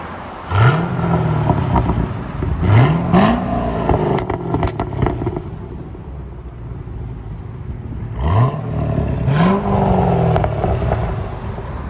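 A 2015 Chevy SS (Holden Commodore) 6.2L V8 with an X-pipe and resonator fitted gives about five sharp throttle blips from idle, each a deep rising snarl that falls back to a steady burble, close and loud with no talking.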